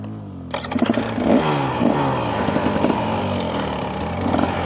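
A 2025 Husqvarna TE300 dirt bike engine revs while riding, close and loud, with repeated throttle blips rising and falling over a steady idle-like drone.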